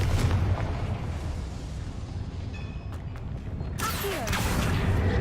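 A Confringo fire spell explodes in Hogwarts Legacy, with a loud, continuous roaring rumble and a sharper burst flaring near the end.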